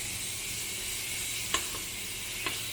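Garlic sizzles in a frying pan with a steady, close hiss, and two soft utensil taps sound briefly as it is stirred.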